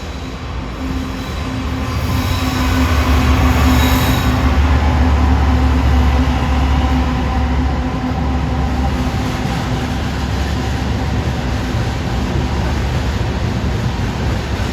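A Norfolk Southern freight train rumbles past steadily and loudly in Harrisburg, wheels grinding with a faint squeal, the noise swelling and holding without letting up.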